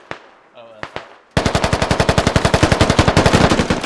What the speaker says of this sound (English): Oh, multiples being shot at now.